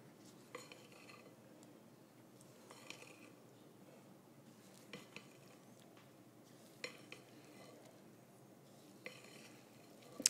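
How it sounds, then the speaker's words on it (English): Danish pastry dough being folded in a bowl, soft quiet scraping and squishing with light periodic clinks of the utensil against the bowl every couple of seconds. "So I'm just folding it together by scooping down and then rolling up top and turning the bowl as I go."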